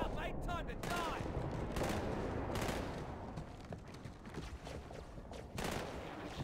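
Rapid bursts of gunfire from the video game Halo 2, dense and continuous over several seconds, mixed with in-game voices and loud battle noise.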